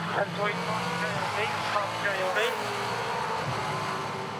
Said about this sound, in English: Chaz Mostert blasting down the front straight